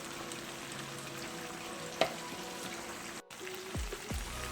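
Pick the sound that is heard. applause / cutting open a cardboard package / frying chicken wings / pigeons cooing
frying chicken wings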